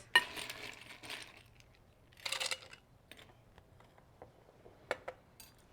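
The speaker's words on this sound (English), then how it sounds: "You want to put your ice in your glass." Ice cubes drop into a glass for homemade iced coffee, a quick rattle of clinks followed by a few scattered lighter taps and knocks in a quiet kitchen.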